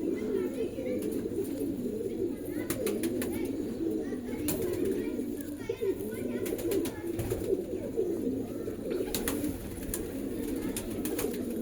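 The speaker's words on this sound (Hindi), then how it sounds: "ये नीली कबूतरी है" Continuous low cooing from several blue pigeons, close and fairly steady, with occasional sharp clicks and a brief rustle of wings.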